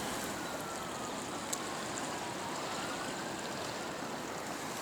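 Steady rushing and trickling of river water on the Thames foreshore as a found toy is rinsed, a continuous close wash with a faint splash, no speech.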